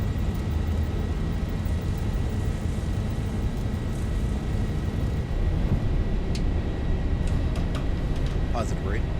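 A Boeing 737-800 accelerating down the runway on its takeoff roll in a flight simulator, a steady loud broadband engine and rumble roar holding constant throughout, with a few faint clicks near the end.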